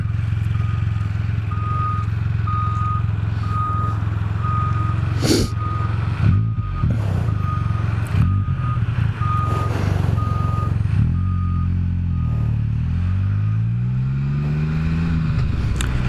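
A Can-Am Spyder three-wheeler backs up, its steady reversing beeper pulsing at an even rhythm over a loud, constant idling engine, with a few clunks partway through and a rising engine whine near the end.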